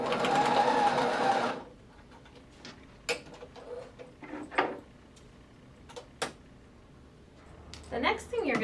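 A sewing machine runs in a quick whirring burst of straight stitching on a bow headband, then stops, followed by scattered clicks and light handling sounds.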